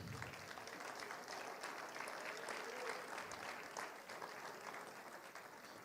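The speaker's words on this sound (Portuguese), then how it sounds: "Aplauda o nome do Senhor." A church congregation applauds together, a continuous, even roar of clapping hands filling the space from start to finish, heard at low recording level.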